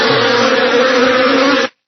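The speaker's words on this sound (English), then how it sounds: "Swarm of flies." A swarm of flies buzzes in a loud, steady, close-up drone that holds evenly and then cuts off abruptly.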